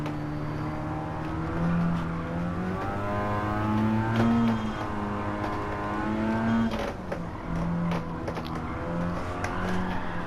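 A Mazda RX-7 FC in Gran Turismo 7, played on a sim wheel, holds a steady rotary engine drone with engine notes rising and falling as the throttle comes on and off through corners. It runs continuous and fairly loud, with no talk.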